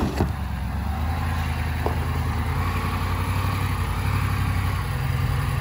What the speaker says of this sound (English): we're actually about to do the first four-wheel drive hill climb because it really can't make it up